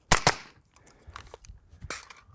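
Several sharp AR-15 rifle shots ring out close by: two rapid cracks at the start, then softer shots spaced irregularly over about two seconds.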